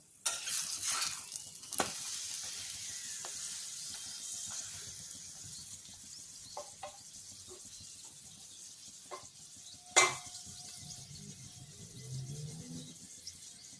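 Paratha frying one at a time in a pan gives a soft, steady sizzle with faint stirring and scraping, interrupted by a few sharp clinks of a utensil, the sharpest near the ten-second mark.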